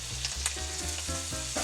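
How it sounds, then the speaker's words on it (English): Onions sweat in olive oil and butter in a pan inside a van, giving a close, continuous hiss and crackle through a short burst. "I need to sweat these onions first. In a little bit of olive oil and some butter."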